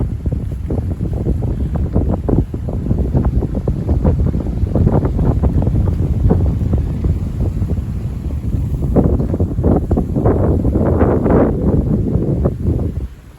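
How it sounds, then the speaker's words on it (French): Strong wind roars continuously across the microphone, loud buffeting gusts rumbling low throughout with no break. "Et là, le vent est encore assez soutenu."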